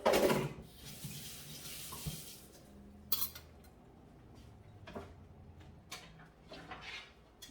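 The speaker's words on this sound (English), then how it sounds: "I'm just going to rinse off my knife." Running tap water splashes over a metal blade, with intermittent washing clatters and short bursts of rinsing, fairly close and moderate in level.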